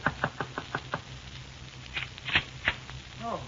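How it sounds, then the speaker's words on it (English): Radio drama sound effect of knocking on a door: a brisk run of about six knocks, then a few more scattered raps, ending as a voice begins. "It was exactly 10 minutes to 9 when I knocked on Marvin's door"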